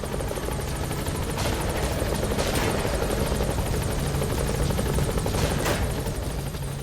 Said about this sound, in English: Helicopter's a little smoky, but it's fine.